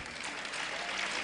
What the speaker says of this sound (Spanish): por favor que el aplauso se redoble para nuestro panel de expertos